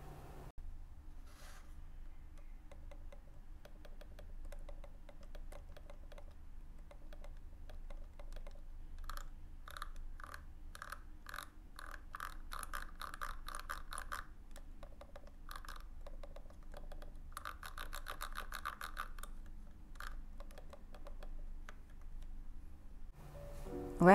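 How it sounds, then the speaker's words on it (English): Computer mice clicking and scrolling on a desk, for use with an iPad: faint, quiet taps and bursts of rapid ratcheting scroll-wheel ticks recur over a steady low background hum, with no voices. "here are some click sounds, that is if you can hear it, but you will surely hear the scroll wheel."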